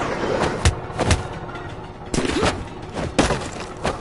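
Gunfire in the action brawler Midnight Fight Express: several sharp, loud shots at irregular intervals, some in quick pairs, ringing against a busy game soundscape with no voices.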